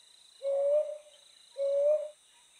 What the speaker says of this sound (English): Brown hawk owls make loud calls.